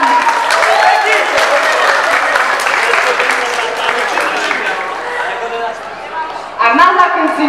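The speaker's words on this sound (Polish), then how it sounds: "Brawa dla nas!" Crowd applause at a local community gathering after a sports club's third-place result, sustained loud clapping that slowly fades, with chatter underneath and a voice breaking in near the end.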